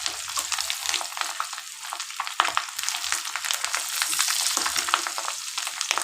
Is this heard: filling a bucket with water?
no